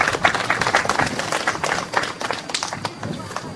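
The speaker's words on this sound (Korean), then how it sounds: "박수 부탁드립니다" Audience clapping at a literary award ceremony, a dense, steady patter of many hands sustained throughout, with voices mixed in beneath it.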